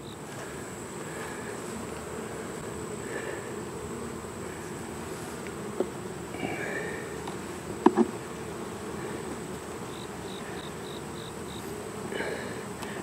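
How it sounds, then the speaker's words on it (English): Bees buzz softly from an opened beehive box pulled apart for its lower section, a faint steady hum with a few small knocks and clicks from handling the frames. "A lot more bees in this bottom"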